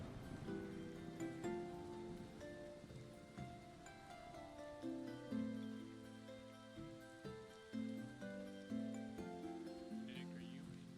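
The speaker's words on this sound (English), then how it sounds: "Where's this rain and lightning coming from?" Steady rain ambience from a low-level team fantasy game playtest, a soft continuous patter sitting beneath prominent melodic music, with no distinct thunder crack standing out.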